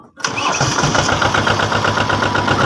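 A large tractor engine cranks and catches after a brief silence, then settles into a loud, close, chugging idle with a steady, pulsing diesel rhythm.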